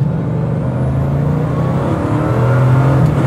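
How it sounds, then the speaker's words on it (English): A Bugatti Chiron hypercar's engine revving under a light throttle, a loud, close, rising mechanical roar and whir with a steady low drone building over a few seconds. "It's crazy, like I'm barely tapping it and you hear these motor, like jet engines turn on."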